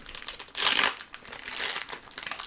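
A Pokémon booster pack's foil wrapper is torn open up close, giving a sharp crinkling rip followed by lighter rustling and crinkles, with no talking.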